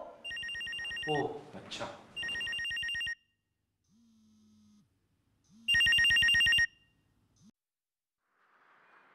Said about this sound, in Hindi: ओहो फोन उठाओ।